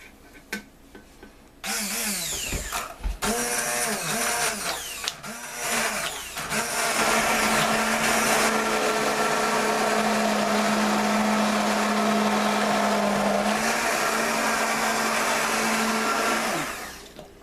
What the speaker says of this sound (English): Just got my trusty old stick blender and puree until smooth